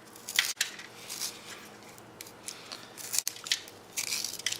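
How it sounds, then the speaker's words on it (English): A handheld Uberleben sharpener shaves a wooden stick into tinder with repeated dry, scraping rasps, close and fairly quiet, broken by brief pauses. "it works much like a pencil sharpener, just to make yourself a bunch of tinder"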